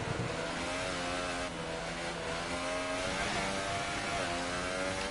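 F1 race car engine screaming around the Singapore street circuit in F1 2018, high revving whine rising and falling through gear changes, with faint tire squeal, steady and moderately distant, no talk.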